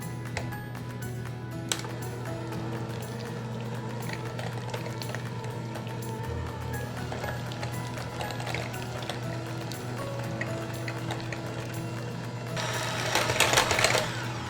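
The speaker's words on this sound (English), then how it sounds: "Now we're gonna add some heavy cream and we're gonna beat this all together into a nice, airy, creamy layer" An electric mixer whirs steadily while beating heavy cream into an airy layer for a custard dessert, a constant motor drone with a rattling beater texture that grows louder and busier near the end.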